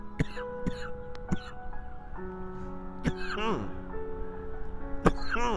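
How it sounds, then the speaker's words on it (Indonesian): Several short, sharp coughs spaced irregularly, close to the listener, over a faint steady hum. "Baru beberapa hari Ramadan kita udah batuk aja ya."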